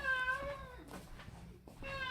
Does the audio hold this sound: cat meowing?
yes